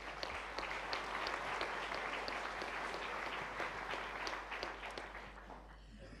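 An audience at a debate-style mock tribunal applauding a witness called to the stand, steady dense clapping from a crowd at moderate distance that thins slightly toward the end.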